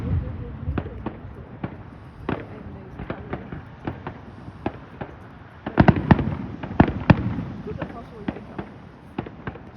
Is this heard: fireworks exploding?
yes